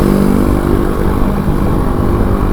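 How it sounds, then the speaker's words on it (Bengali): A motorcycle being ridden one-handed on the road toward Dhaka hums with a steady, loud, close engine drone and wind rush, holding an even pitch throughout. "এক হাতে ভিডিও করতেছি, আর এক হাতে মোটরসাইকেল চালাইতেছি।"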